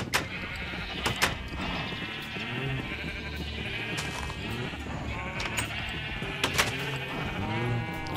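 Several sheep bleat in Minecraft, repeated wavering calls spaced irregularly, with sharp clicks and game noises between them and no talk.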